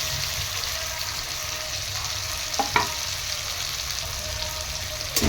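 Marinated hilsa fish frying in hot oil with onions fried until reddish, a steady loud sizzle throughout, with a couple of brief clinks near the middle and end and no voices.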